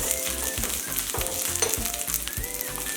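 Paneer and mixed vegetables shallow-frying in oil for a sizzler, a steady close crackling sizzle with the soft scrape of stirring now and then, no voices.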